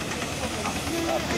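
A steam traction engine gives off a steady, close hiss of escaping steam as it passes, with a brief faint whistle-like tone near the end and no clear talk.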